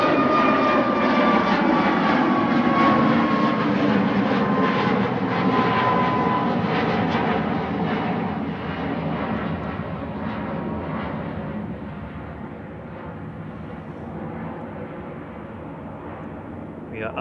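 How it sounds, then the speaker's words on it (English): A SunExpress Boeing 737 MAX 8 jet departs Manchester Airport, a loud sustained engine roar with whining harmonic tones that slowly fades as the aircraft climbs away, with faint talk underneath. "Sun Express departing now. 1, 2, 3 right. Heading back to Dalaman TCSME on Max 8"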